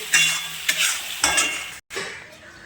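Spice masala with turmeric and salt frying in a pan, close and loud sizzling broken by three or four stirring scrapes, with a brief silent gap near the end before the sizzle resumes.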